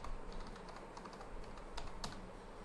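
Keys on a computer keyboard are tapped in a quick, quiet run to enter a password, with one or two sharper strokes near the end and no voices.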